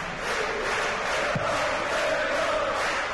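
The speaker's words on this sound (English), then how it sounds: "you can hear for our mics how noisy the crowd is this evening" A noisy crowd fills the arena at a European Darts Trophy match, a dense continuous roar of many voices heard from a balcony above the audience, with one brief low thump partway through.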